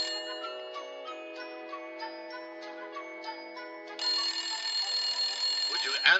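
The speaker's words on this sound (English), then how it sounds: "Would you answer the damn phone, woman?" An old-style telephone bell rings in repeated bursts of bright metallic tone, then a louder, denser ringing swells near the end, with no talk over it.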